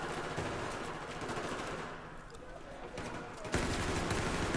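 Heavy gunfire echoes through a Battlefield 4 Domination match on the Dawnbreaker map, with sustained automatic fire and distant shots blending into dense, loud battle noise. It briefly thins near the middle, then surges back.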